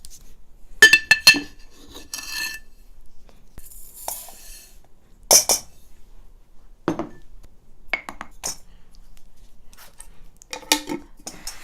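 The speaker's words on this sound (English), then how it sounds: "I'm going to start with mixing my sugars." White and brown sugar being stirred together in a bowl for chocolate coconut oatmeal cookies, heard as scattered scraping and clinking utensil strokes against the bowl, a few sharp bursts spaced apart with quiet gaps and no talk.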